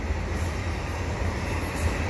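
A CN intermodal freight train rolls past Valois station, giving a steady, fairly loud low rumble of railcars with a faint airy hiss above it throughout.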